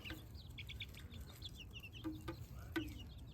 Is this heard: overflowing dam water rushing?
no